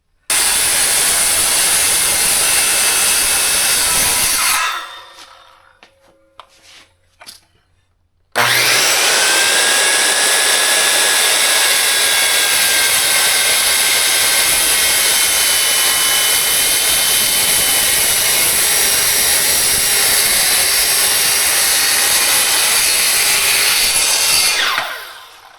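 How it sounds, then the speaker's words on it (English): A power saw plunge-cuts into a wooden rafter on a framing job, its loud steady whine running for several seconds, dropping out briefly with a few knocks, then resuming for a long continuous cut before winding down. "That's called a plunge cut, by the way."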